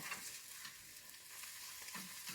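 Food frying in a pan as it is flipped and poked: a quiet, steady sizzling hiss with light scraping touches, close but low in level, with no talk.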